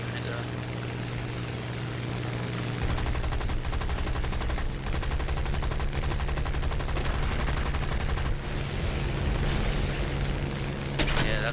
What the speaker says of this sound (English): That's more like anti-air fire.